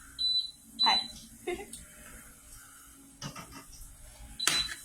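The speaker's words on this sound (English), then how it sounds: "that beeping is the thing saying that they're done" A kitchen appliance beeps to signal that cooking plantains are done, with short high electronic tones sounding a few times, spaced out across the stretch and mixed with clattering and a person talking nearby.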